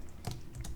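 Quick bursts of keystrokes on a computer keyboard while entering a terminal shell command, a few close, crisp clicks in an uneven rhythm.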